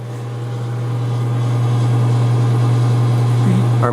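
A Nordson FoamMelt 190 foam processor runs with its motor at 600 RPM, giving a loud, steady low hum with a strong constant drone that holds unchanged throughout.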